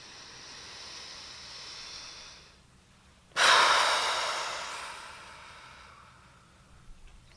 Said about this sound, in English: And taking a deep breath like that